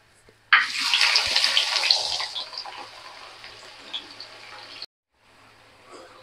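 Onions and whole spices hit hot oil with a sudden loud sizzle that fades gradually, cut briefly by a silent gap before a quieter sizzle resumes.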